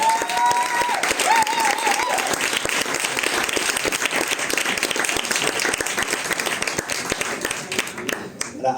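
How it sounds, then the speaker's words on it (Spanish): An audience at a talk on neuroscience and education bursts into sustained, dense applause, loud and steady for several seconds before tapering off at the end. "y un aplauso"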